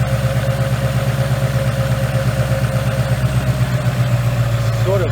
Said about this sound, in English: I'm going to let this thing idle for a little while